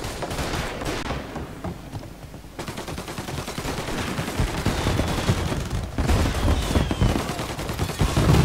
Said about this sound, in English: And now for the fireworks, huh?